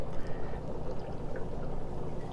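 Water pouring from the outputs of a SunSun or Fluval aquarium filter, a steady close splashing rush that holds constant throughout.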